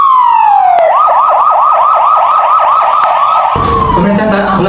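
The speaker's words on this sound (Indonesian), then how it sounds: "Sirine ambulan terdengar dari kejauhan menuju lokasi kejadian." A loud ambulance siren wails close by, sweeping down and then cycling through rapid repeated yelps before traffic noise takes over near the end.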